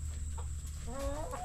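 Chickens cluck in a farmyard, a short burst of close, moderately loud fowl calls over a steady low background hum.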